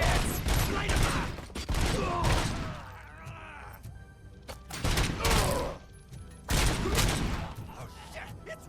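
Bursts of gunfire in the RoboCop: Rogue City video game, several loud dense volleys of rapid shots separated by short lulls, with voices shouting in between.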